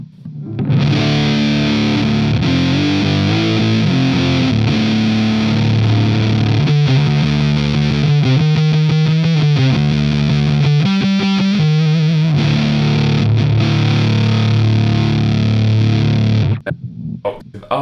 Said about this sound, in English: If we then take the mid-cut switch on, it sounds more like this.